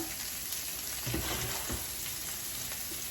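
Meatballs sear and sizzle in a hot pan, a steady close crackle with a few soft scrapes of stirring partway through and no voices.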